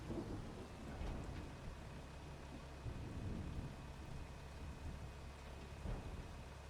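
Rain and thunder in Farming Simulator 25: a steady hiss of falling rain with low rolling rumbles of thunder swelling a few times, faint and distant, with no speech.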